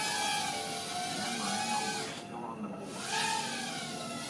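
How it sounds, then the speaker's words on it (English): An RC quadcopter with its motors flipped to face downward whines steadily at close range, the motor pitch dipping briefly and rising again as it flies. "Flies just like a normal quad, you know, it's just the motors are flipped upside down"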